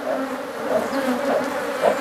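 Honeybees swarm around an opened hive while a beginner beekeeper splits one strong colony into two, making a dense, continuous buzz close by with wings whirring past nearby.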